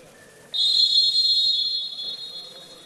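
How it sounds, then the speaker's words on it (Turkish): A referee's whistle at a basketball game between Istanbul University SBSK and Ümitköy AİHL Başkent Akademi SK sounds one long, loud, steady blast lasting over two seconds, preceded by faint arena murmur. "henüz sahadaki yerini almadan ilk düdük geldi."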